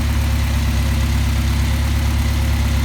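A Mercedes 190SL engine idles steadily at 1,000 RPM, a close, even, low mechanical drone with a constant throb and no other sounds.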